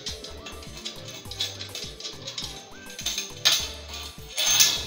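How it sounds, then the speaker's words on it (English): A flange nut being tightened onto a bolt while a 90cm satellite dish is assembled, giving close, repeated ratcheting clicks and small metallic clinks in irregular bursts, with no talk. "Use the flange nut to tighten it up."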